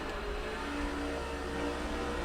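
NASCAR 05 race car engines drone at high pitch in a steady, sustained roar with no gaps and no talk.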